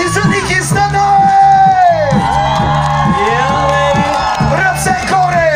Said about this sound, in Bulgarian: Аплодисменти за Ники Станой!